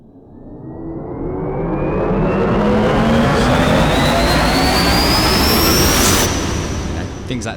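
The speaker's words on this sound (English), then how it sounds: "Risers are sounds that start from nothing and build to a very large crescendo." A cinematic riser sound effect starts from near silence and swells into a roaring, engine-like wall of noise with a steadily climbing whine, peaks at a loud crescendo, then cuts off abruptly.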